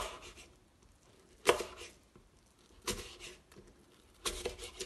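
A knife cuts through apples, left with their peel on for topping an apple cake, in a kitchen: three separate crisp slicing strokes spaced about a second and a half apart, close and fairly quiet, with no talking.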